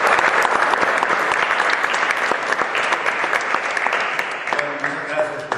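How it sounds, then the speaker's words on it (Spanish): A live audience bursts into sustained welcome applause for a guest speaker about to talk on the Amazon, dense clapping steady and loud throughout before thinning slightly near the end. "Pues un aplauso de bienvenida."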